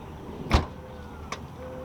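A 2018 BMW F36 440i Gran Coupe trunk closes on its own: one firm latching thud, a brief mechanical whir, then a softer click about a second later, close by in a quiet setting.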